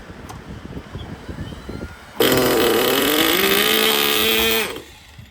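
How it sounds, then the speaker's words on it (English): A small high-revving OS Max CZ12 nitro engine in a vintage Kyosho ZR-1 Corvette model car suddenly buzzes to life after quiet ambient noise, running loud and steady for a couple of seconds before cutting off. "This freaking engine started up the first freaking time."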